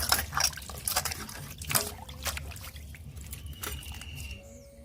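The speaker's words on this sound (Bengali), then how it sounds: "আমি এই মাছটা ধুয়ে নেব ভালো করে ধুয়ে নেবো" Water runs and splashes steadily as fresh river shele fish are rinsed in a basin during village-style Bengali cooking, a continuous close trickle and pour with soft clatter and no speech.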